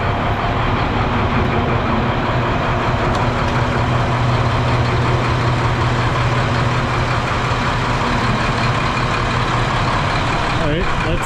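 Diesel snow plow truck engine idles steadily with the PTO engaged, a loud continuous rumble with a constant drone throughout, close to the microphone.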